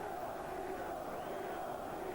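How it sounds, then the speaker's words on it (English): Football crowd at a late-1980s Derby County match chanting the name of striker Dean Saunders, a dense, continuous roar of massed voices filling the stadium without a break. "You can hear the crowd what they think about Saunders shouting Dino, Dino, Dino."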